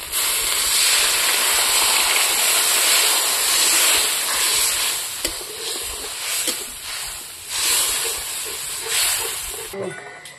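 Water hits a pan of hot sizzling masala for a duck egg curry, giving a loud sustained hiss and steam that slowly eases and flares again near the end.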